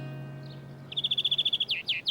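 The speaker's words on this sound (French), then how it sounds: "Oiseau, oiseau." A bird chirps in a quick run of bright, evenly spaced notes, then a few longer downward-sweeping calls, close and clear over a faint low hum.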